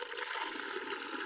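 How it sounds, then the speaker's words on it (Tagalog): Released water pours out of an outlet in a rural water system in Sipocot, Camarines Sur, a steady close gushing rush that lasts the whole short moment. "Nalabas ang tubig dyan."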